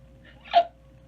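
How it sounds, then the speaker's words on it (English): A single sharp hiccup from a person sounds once in the middle of a quiet moment, close and fairly soft, with no talking around it. "I'm so sorry, I have the hiccups."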